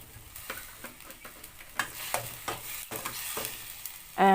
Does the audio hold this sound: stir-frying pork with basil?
yes